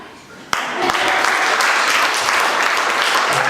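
Audience applause at an improv comedy show bursts in suddenly and holds as a dense, loud, steady wash of clapping close by.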